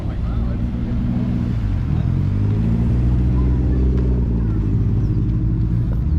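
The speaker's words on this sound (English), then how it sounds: "Cars keep rolling in." Car engines rumble steadily as vehicles roll into a Porsche marque day at a Supercar Sunday show, a low continuous drone with shifting engine tones and faint voices underneath.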